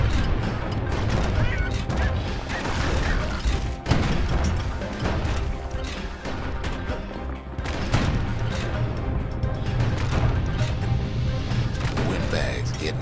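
Gunfire from security skiffs in the video game Bastion, a dense, continuous barrage of shots and booms that stays loud throughout, mixed with game sound and a voice talking over it.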